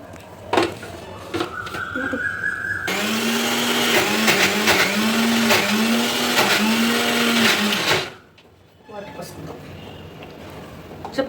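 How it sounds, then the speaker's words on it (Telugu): Mixie grinder whirring loudly up close as it grinds soaked dosa batter to a smooth paste, a steady motor whine running several seconds then cutting off, with someone speaking before and after. "మెత్తగా గ్రైండ్ చేసుకుందాం"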